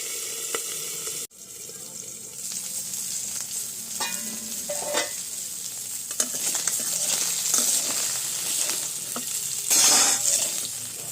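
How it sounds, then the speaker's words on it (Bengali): Tangra fish fry in a pan with a steady, fairly close sizzle and spatter, broken by brief scraping and stirring clatters and a sudden short cut near the start; no voices. "মাছগুলো ভাজা হয়ে গেছে নামিয়ে নিচ্ছি"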